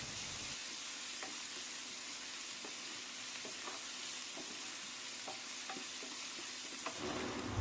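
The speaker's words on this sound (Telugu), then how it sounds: "బాగా వేగిన తరువాత చివరిగా కొద్దిగా కరివేపాకు మరియు కొత్తిమీరను వేసుకుని వేయించుకోవాలి" Curry leaves and coriander frying in a hot oil tempering for drumstick sambar, a steady bright sizzle with faint stirring clicks and spatters, close and continuous with no talk.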